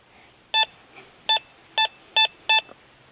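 A Teknetics Eurotek Pro metal detector sounding off over a dime buried in a test garden gives five short, sharp electronic beeps at a steady pace, loud and clear against a quiet background.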